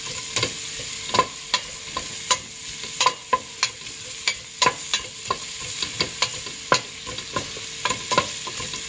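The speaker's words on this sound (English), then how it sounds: "After we stir about like 1 minute" A spoon stirs lemongrass in a hot pan while mussels are being prepared, giving a steady series of sharp scraping taps over a soft sizzle of frying, close and fairly loud with no talking.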